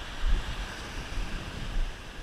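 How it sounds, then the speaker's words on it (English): Storm surf breaks on a beach in striped bass fishing water, a steady broadband wash of whitewater with low rumbling swells and some wind noise, continuous with no voices. "There's so much good whitewater here"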